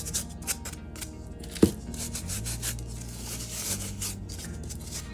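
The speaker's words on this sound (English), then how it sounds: "we are going to add a little ground cinnamon to it. You're just going to rub that in." Ground cinnamon is rubbed into dried handmade Christmas ornaments, making close, dry scratchy friction with small taps and a sharp knock partway through.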